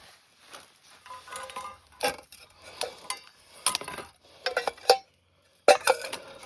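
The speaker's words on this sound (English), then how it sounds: "Can put all my implements, knife, fork and spoon, and the little spatula." Small metal utensils, a knife, fork, spoon and little spatula, clatter and clink against a lightweight DIY backpacking table in a series of sharp, close knocks and rattles, several louder clacks spaced unevenly with brief quiet gaps.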